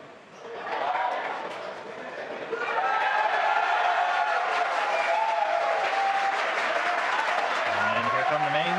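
SpaceX employees cheer and applaud at headquarters mission control as a Dragon capsule descends under parachutes. A steady, dense roar of clapping and cheering builds and holds throughout, while a commentator's voice runs over it.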